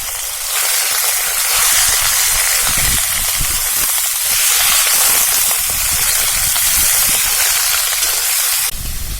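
Steady loud hissing sizzle of cut country chicken pieces frying in a pan over a wood stove, continuous throughout with no talking.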